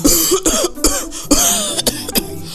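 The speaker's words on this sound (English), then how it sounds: "my darling has a nasty cough" Several sharp coughs in quick succession, loud and close, with short pauses between bursts and a throat-clearing rasp.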